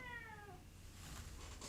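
A pet cat lets out a single faint, falling meow in a quiet indoor room, fading after half a second into low background hum.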